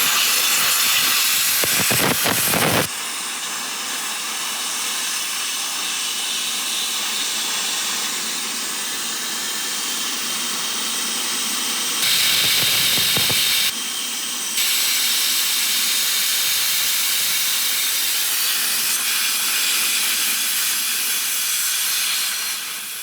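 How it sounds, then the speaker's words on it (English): Air rushes out of an open Monster Valve on a 2022 Ford Bronco Raptor off-road tire, a loud steady hiss that runs continuously for over twenty seconds, briefly dipping a couple of times, close to the valve. "you're gonna start to hear air coming out of it, just like that"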